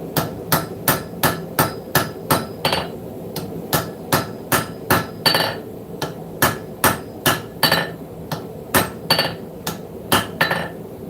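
A blacksmith at a hot forge hammers hot metal on the hump of the anvil. The blows are sharp and ringing, in quick rhythmic bursts with brief pauses between them, close and loud, with no talk.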